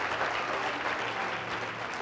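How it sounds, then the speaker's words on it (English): Church congregation clapping in praise during a Wednesday evening worship service, a dense, steady burst of applause from many hands filling the room without pause. "give the Lord a big hand clap of praise"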